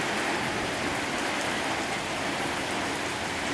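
Heavy rain pours steadily during a severe thunderstorm with strong winds, a dense, continuous hiss of drops on surfaces that stays loud and unbroken throughout, with no voices.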